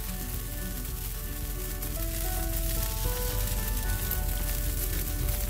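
A cheese dosa topped with grated cheddar and Monterey Jack sizzles in an oiled pan, a close, steady crackling hiss that holds evenly throughout with no one talking.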